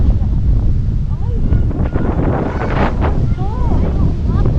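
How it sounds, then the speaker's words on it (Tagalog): Strong wind buffets the microphone at Sampaloc Lake, a loud, continuous low rumble with gusty surges throughout, while voices talk intermittently over it. "Ay, malakas ang hangin."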